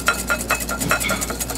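A whisk beats Caesar salad dressing by hand in a bowl, making quick, rhythmic metallic scrapes and taps, close and clear, about ten strokes in under two seconds.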